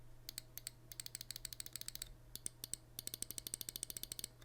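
A Zaunkoenig M2K ultralight computer mouse is clicked repeatedly with its right and left buttons, a rapid series of crisp, close clicks in even bursts over a faint steady hum, with no talking.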